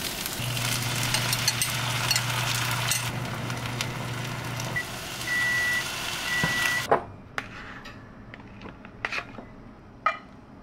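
A microwave oven's steady low hum runs with background sizzling and clatter, then stops abruptly; a few beeps and sharp clicks follow in the quieter room.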